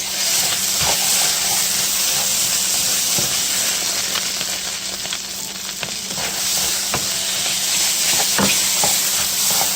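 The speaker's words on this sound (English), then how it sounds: "And then I like to stir." Beef pie filling with flour thickens in a pan, a loud continuous sizzle and hiss with soft scraping strokes of stirring, no voices.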